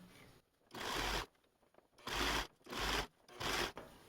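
A serger stitches through the padded layers of a quilted Christmas stocking, running in four short, even bursts with quiet pauses between them, close and fairly soft.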